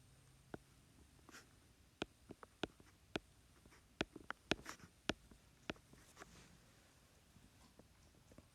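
A word being written by hand on paper, a quiet scratching of pen or pencil broken by sharp, faint taps and strokes at irregular intervals.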